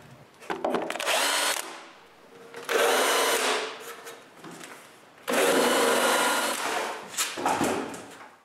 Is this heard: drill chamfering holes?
yes